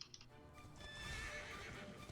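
In Dragon Quest XI S, a horse neighs and its hooves clip-clop at a quick, rhythmic pace, fairly faint in the background.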